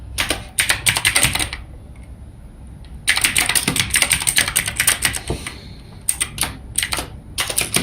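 Bursts of rapid keyboard typing while entering JavaScript code, clustered clicks with pauses between runs, close and fairly loud.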